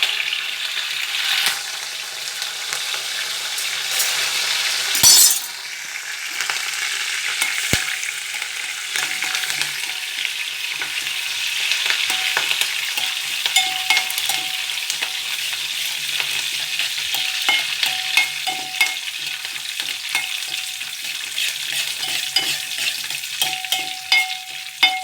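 Curry leaves fry in a pan for pepper rasam with a loud, close, continuous sizzle, a sharp burst early on and scattered clicks and crackles throughout, with no talking.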